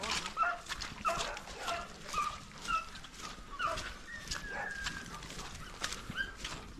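Dogs bark repeatedly outdoors during a rabbit hunt with greyhounds and beagles in Chile, sharp yelps and barks at a moderate distance, scattered irregularly with some whimpering.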